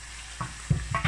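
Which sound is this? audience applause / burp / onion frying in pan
onion frying in pan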